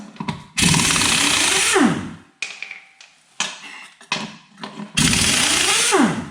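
Impact wrench driving an oversized socket onto lug nuts on a Jeep YJ, two long loud bursts of rattling hammering with a falling whine as each stops, separated by clanks and shuffling of tools.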